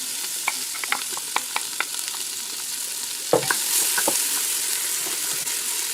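Haddock sautéing gently in butter in a pan gives a steady broadband sizzle, with a string of soft utensil taps and scrapes early on and a sharper clatter near the middle, no voices.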